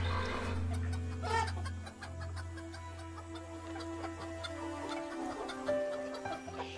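Chickens cluck softly in a farm scene, scattered short calls over a low droning background hum and faint ticking.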